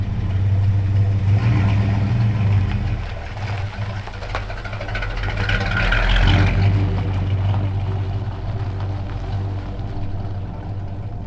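A 1957 Chevy engine idles with a new exhaust, a steady low rumble close by that swells briefly mid-way as it revs, with a voice talking faintly over it.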